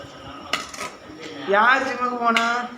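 Boiled potatoes being mashed for samosa filling in a home kitchen, with metal utensil clinks and scraping against a pot or bowl, a few sharp taps and a longer grinding scrape, close and moderately loud.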